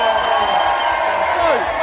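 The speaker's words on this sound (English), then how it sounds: "Give a huge round of applause for this video." A small crowd at a chilli-eating challenge cheers and claps in a brief, dense burst of noise mixed with shouting voices.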